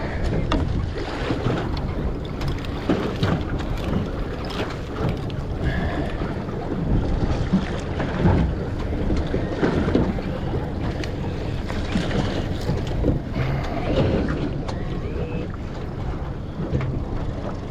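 Steady choppy water sloshes and slaps against a small fishing boat, mixed with constant wind rumble across the microphone and no talk.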